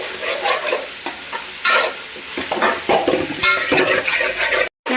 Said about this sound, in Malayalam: സവോള നന്നായിട്ട് എണ്ണയിൽ വഴറ്റിയെടുക്കുക